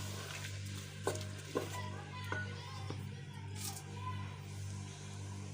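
Spices being stirred into a pan for sarson ka saag, with a few light scrapes and clicks of a utensil over a soft steady sizzle and a low constant hum.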